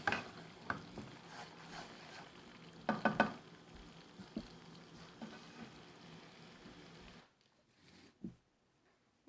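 Walnut halwa being stirred in a ghee-coated kadhai, a soft continuous frying sizzle with scraping strokes and a few louder clatters near the start, then the sizzle drops away to near silence toward the end.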